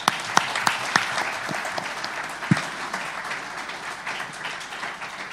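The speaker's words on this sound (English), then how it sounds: "Ladies and gentlemen, from the other side, nice round of applause." A crowd at a boxing press conference gives a round of applause, dense clapping with a few sharp louder claps standing out near the start, holding steady throughout.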